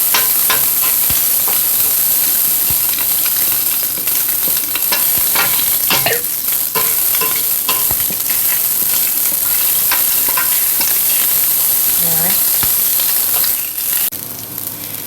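Udon noodles fry with aromatics in olive oil on a very hot stove, giving a loud, steady sizzle with scraping stirs and clinks throughout, easing a little near the end.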